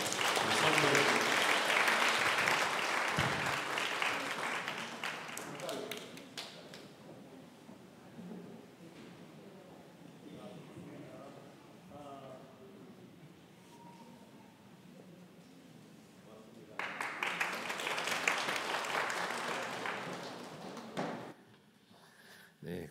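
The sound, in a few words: congregation applauding in church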